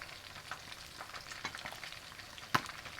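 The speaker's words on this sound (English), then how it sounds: "So we're now putting in our tomatoes." Tomatoes tumble into a cooking pot for prawn sinigang, giving soft scattered clatters over a low steady sizzle, with one sharper knock near the end.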